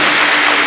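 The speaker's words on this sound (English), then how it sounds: "Let us give another round of applause for the Chancellor." Sustained applause from the audience at a university graduation ceremony in Kenya, a dense steady wash of clapping filling the hall at even loudness throughout.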